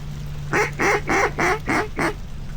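Six loud, nasal mallard duck quacks in a steady rhythm, close by, over a low constant hum, during a duck hunt in Arkansas.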